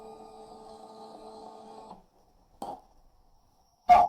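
A Zebra label printer runs steadily for about two seconds with a whirring feed, then stops; a short click and a louder mechanical clack follow after pauses. No one speaks.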